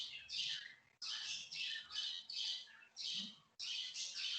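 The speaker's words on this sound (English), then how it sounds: "The birds, sir." Birds squawk and chirp in repeated bursts close by, with short pauses between calls and no talking.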